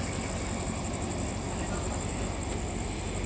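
A diesel locomotive engine runs at night at Lopburi station in Thailand, giving a loud, constant, close rumbling drone with a steady high whine on top, unbroken and without speech.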